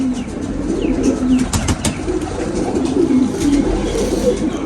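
A slate-grey breeder pigeon coos repeatedly in soft low throaty phrases close by, with faint rustling and a few brief sharp clicks around it.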